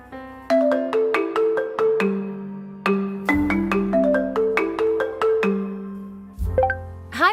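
A cheerful melodic ringtone plays loud and alone, a quick rising-and-falling run of bright electronic notes repeating for several seconds from a phone.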